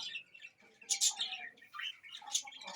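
Chickens kept under a winter shelter give out bird calls and chirps, a few brief bursts close by with quieter chatter between them and no talking.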